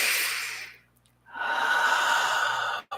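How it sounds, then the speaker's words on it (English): A deep clearing breath taken during meditation: a long, close exhale fades to near silence, then a strong inhale rushes in and holds steady before cutting off abruptly. "take a deep and clearing breath"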